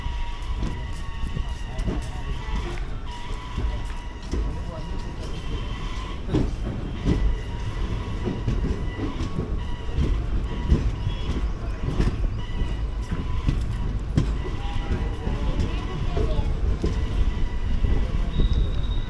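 The 16343 Amritha Express, from Palakkad to Madurai, heard from inside a sleeper-class coach: a loud, continuous low rumble with rhythmic wheel clatter and rattling that persists steadily throughout.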